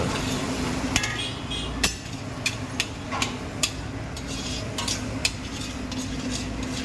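Ash gourd frying in ghee for kashi halwa, a steady low sizzle with a spoon stirring and scraping the pan, giving a series of sharp metallic clinks at irregular intervals.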